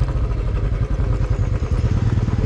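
A motorcycle rides a mountain road toward the highland village of Sikles, its engine giving a close, loud, pulsing throb with some rattling clatter.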